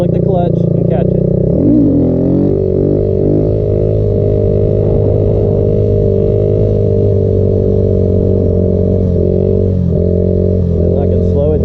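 Kawasaki Z125 motorcycle engine held at a loud, steady drone close by, with a quick rise in pitch early on as it revs, under continuous talking.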